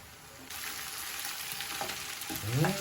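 Eggplant filling seasoned with pepper and salt is stirred in a hot pan, giving a steady close sizzle with soft scraping strokes of a spoon through it.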